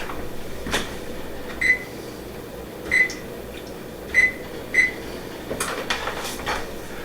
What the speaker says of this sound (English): Now let's preheat our oven.